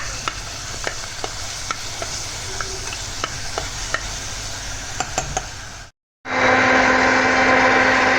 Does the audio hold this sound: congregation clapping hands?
no